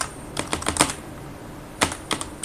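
Fingers tap on a computer keyboard in two short clusters of quick keystrokes separated by a pause, close and clear with no talking.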